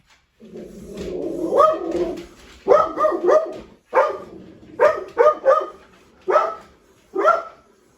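A dog barks repeatedly nearby in short clusters of two or three loud barks, preceded by a low growling whine.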